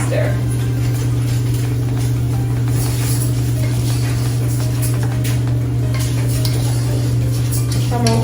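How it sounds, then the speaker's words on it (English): Rice with oil and salt is stirred in a pot, spoon scraping and clinking softly over a loud steady hum, with a voice talking. "So I'm going to get that oil and salt all mixed up with that rice."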